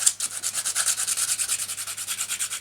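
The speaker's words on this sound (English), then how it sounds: "give this a good going over with this sandpaper" Sandpaper rubbed by hand over a model Tyrannosaurus rex to smooth a raised seam, a close, steady back-and-forth scratching in quick regular strokes, alone with no voices.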